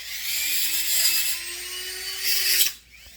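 A Dremel rotary tool grinds on a Husqvarna 55 chainsaw part, a high, steady whine with a slowly rising pitch. It runs loud and close for about two and a half seconds, then cuts off abruptly and spins down.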